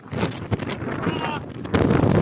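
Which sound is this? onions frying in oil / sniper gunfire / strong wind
strong wind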